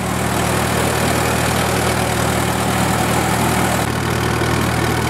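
A WWII anti-aircraft gun generator's small governed, carbureted engine runs steadily, a close, continuous, even hum and rumble with no change in pace throughout.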